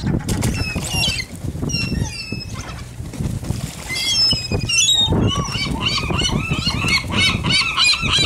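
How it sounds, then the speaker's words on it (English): Birds honk loudly and repeatedly near the water at a crabbing spot, overlapping calls rising and falling with splashy, windy background noise. "I'm afraid of the birds."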